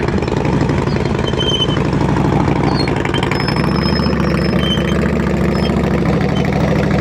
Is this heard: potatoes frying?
no